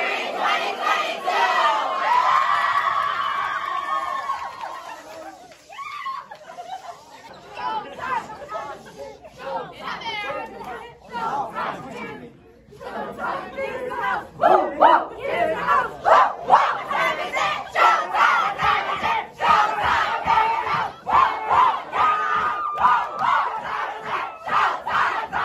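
Grade 12 students at an arts event shout and cheer loudly as a crowd, voices chanting together in surges, with a brief lull midway before the roar rebuilds into sustained excited yelling and chatter.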